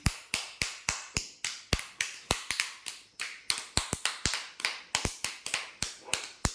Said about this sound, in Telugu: క్లాప్స్ కొట్టండి హాసినికి.